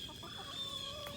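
Chickens and roosters on a farm flock in winter, faint clucking and a thin sustained call at a distance, quiet and brief with no talking.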